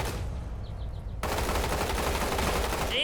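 Gunfire in the Roblox game Combat Arena: steady game noise, then a loud, continuous burst of rapid fire that fills the rest of the moment.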